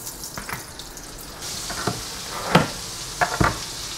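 Meat patties fry in butter and rapeseed oil in a pan, a steady close sizzle with a few louder crackles and spits as they settle.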